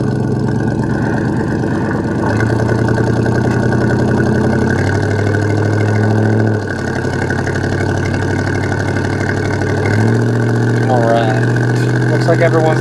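A 1972 Chevrolet Monte Carlo cruising slowly on a test drive, its engine a loud, steady low rumble from inside the car, with pitch shifts as it eases along and someone talking over it.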